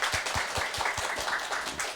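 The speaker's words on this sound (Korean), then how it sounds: "스태프들에게 우리 그 손님들 한번 주인한테 박수 한번 부탁드리겠습니다" A seminar audience at a culture centre applauds the staff, a soft, moderately distant round of clapping with individual claps standing out in a loose rhythm.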